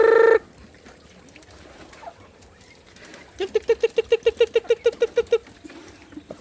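Chickens and ducks in a garden pen give a rapid series of about a dozen clucking or quacking calls over low outdoor background noise.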